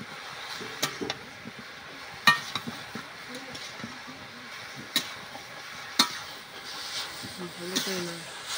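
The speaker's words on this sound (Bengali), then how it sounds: "ভালো করে একটু নেড়ে টেড়ে নেবেন" Bottle gourd dal with coconut stirred in a pot, quiet scrapes and occasional sharp clinks of a spoon against the pot, with someone talking softly in between.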